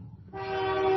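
A train horn sound effect blares in after a brief low rumble, a single sustained tonal blast that stays steady and grows slightly louder until it cuts off.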